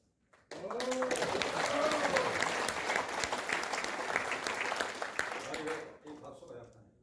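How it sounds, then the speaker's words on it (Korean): Applause from an audience at a political rally and debate, starting abruptly, holding as a dense, fairly loud clatter of clapping for about five seconds, then fading, with voices and shouts mixed in. "이 박수가 약하네"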